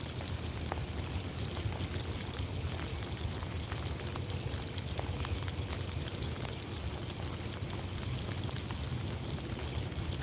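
Steady rain falling during a fishing session in the rain, a constant dense patter with scattered distinct drops, close and evenly loud throughout with no voices.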